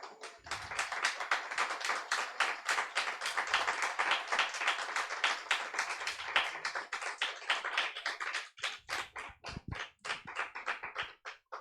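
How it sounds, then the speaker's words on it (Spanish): A church congregation claps during a Lord's Supper service, a fast rhythmic burst of hand claps, fairly close and energetic, with the clapping thinning into scattered individual claps toward the end. "Dele un aplauso al Señor."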